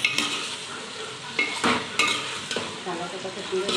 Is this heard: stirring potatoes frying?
yes